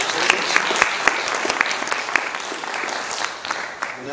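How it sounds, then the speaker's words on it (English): Audience applause for candidates at a California Assembly District 18 candidate forum, a steady, dense clapping from a crowd that holds for the full length, loud and close with sharp individual claps standing out. "Let's give them all a warm round of applause for their service."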